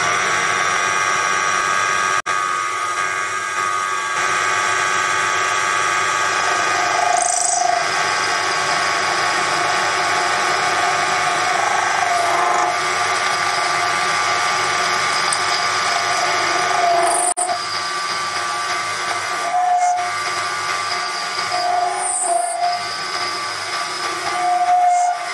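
Proxxon PD 250/e lathe turning a rod being shaped with a round radius insert tool into a coat hook, a steady close mechanical whir and hum with occasional brief clicks and cutting scrapes over a long stretch.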